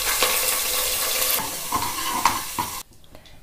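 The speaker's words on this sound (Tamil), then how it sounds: "1 ஸ்பூன் இஞ்சி பூண்டு பேஸ்ட்டு சேர்த்துருவோங்க." Ginger garlic paste sizzles in hot oil with curry leaves while being stirred for mutton chukka. A steady close frying hiss carries soft stirring scrapes, then cuts off abruptly near the end.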